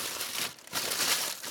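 A circle of cut paper being crumpled to line a grill basket, a brief close crinkling and crackling burst with a short pause in the middle.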